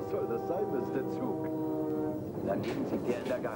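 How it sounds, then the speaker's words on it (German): A train rumbles past with a long, sustained horn blast, heard under people talking, in a stage play. "Was soll das sein, das ist der Zug?"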